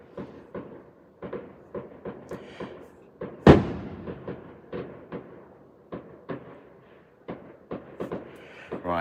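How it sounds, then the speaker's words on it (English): Fireworks go off outside in a steady series of sharp pops and bangs, one much louder blast standing out, heard from indoors at a distance with a short crackle near the end. "these fireworks are so loud"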